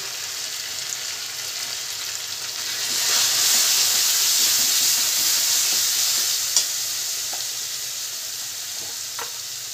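Chicken kosha sizzles and fries in a pan with tomato, turmeric and coriander powder, a steady close hiss that swells midway, with faint stirring scrapes and an occasional pop, and no talking.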